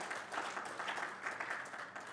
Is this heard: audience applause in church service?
yes